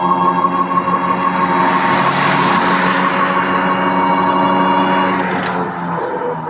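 The motor of a Ride1Up Revv 1 DRT e-bike whines steadily under load while climbing a steep hill, with rising and falling tonal hum and wind noise up close. No one talks.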